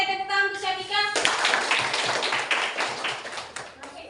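Schoolchildren in a classroom clap their hands together as a class for a student, a steady cluster of near claps right after a brief voice, continuing for several seconds.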